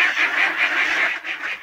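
Many ducks quacking together at a large duck release on Lake Uluabat, a dense, continuous chorus of overlapping calls close by with no talk.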